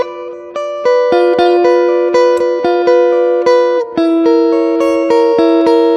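Bright, plucked tones ring out one after another, building and sustaining an arpeggiated chord in a steady, loud, repeating pattern.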